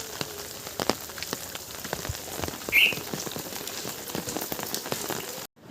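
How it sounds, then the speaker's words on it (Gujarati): Heavy first monsoon rain pours steadily with scattered sharp drips and splashes nearby, and a brief croak sounds in the middle before the sound cuts off. "હજી પણ બહુ વરસાદ શરૂ છે વરસાદ ઉભો રહેવાનું નામ નથી લેતો"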